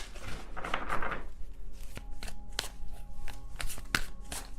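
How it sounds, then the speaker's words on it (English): Tarot cards riffle and slap together in a few quick shuffling bursts, close and crisp, with soft tapping between them and no speech. "I can't shuffle this card that way"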